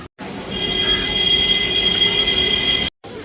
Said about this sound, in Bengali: এই যে ট্রেন আসছে